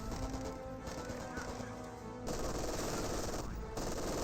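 Rapid bursts of machine-gun fire in a Company of Heroes 2 battle, steady crackling volleys running throughout with a louder stretch after midway, alone without talk.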